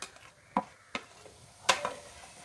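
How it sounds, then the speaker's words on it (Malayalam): Grated coconut roasting in a pan with curry leaves for a masala curry, stirred with a few distinct scraping knocks against the pan, quiet and close with long gaps between strokes. "തേങ്ങ വറക്കാനുള്ളതിന് നമ്മളൊരു പാനില് നാളികേരം ഇട്ടു"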